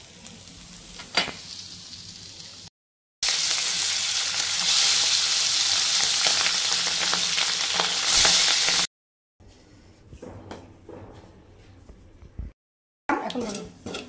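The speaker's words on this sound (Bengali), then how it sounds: "বেশি কড়া করে ভাজবো না মাছটা।" Pabda fish sizzles in hot oil in a pan, a steady bright frying hiss that rises loudly for several seconds, with quieter crackling and stirring around it, interrupted by brief silences.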